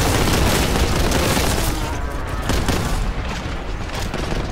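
A grenade explodes in the retro shooter Boltgun, while fighting the Black Legion, part of a steady, dense roar of loud blasts and gunfire that fills the whole stretch without pause.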